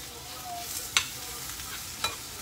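Spinach sautéing and wilting in a pan, a steady close sizzle with two brief scraping stirs, and no talking.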